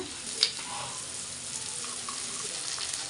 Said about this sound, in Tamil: இப்போ நம்ம முட்டை சேர்த்தாச்சு நல்லா வதக்கிக்கலாம்